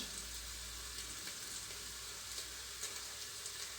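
A steady, close frying hiss as ingredients sauté in a pot for green lentil soup, continuous and even throughout with no talking.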